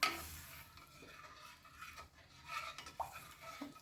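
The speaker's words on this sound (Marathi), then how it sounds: "आता आपण हे कढईमध्ये घालून घेऊया आणि आपल्याला हे सतत हलवायचं आहे" Soaked garden cress seeds are stirred continuously in a kadhai with a spoon for a winter kheer, producing soft scraping and occasional light metallic clinks, close and quiet.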